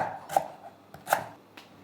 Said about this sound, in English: Now to prepare the lemongrass, cut off the top